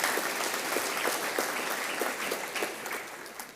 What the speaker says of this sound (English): That's worth a round of applause, isn't it?